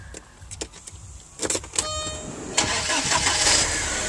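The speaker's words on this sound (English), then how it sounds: "Cranks right up." A 1995 Porsche 968 engine cranks with a few short starter bursts, catches and settles into a steady close idle, with interior clicks and whirs scattered before it fires.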